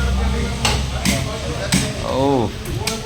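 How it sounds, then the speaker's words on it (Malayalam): Heavy cleaver chops through a barramundi head at a fish-cutting stall, a few sharp thwacks in quick succession, loud and close, with a voice speaking over the background bustle. "ഈ തല വെട്ടണിട്ട് ആശാന്"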